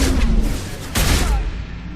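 A heavy point-blank shotgun blast from Mass Effect 2 follows a Vanguard's biotic charge, with a sharp booming burst around the middle of a dense, noisy combat mix.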